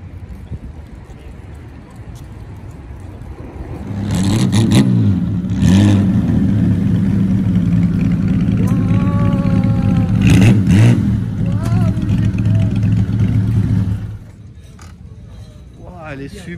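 A Bugatti sports car's engine rises from idle into a loud, deep revving roar, with several blips held for about ten seconds before dropping back, set among people chatting on a town square.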